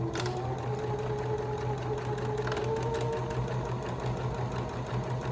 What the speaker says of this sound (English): So I'm gonna go ahead and backstitch.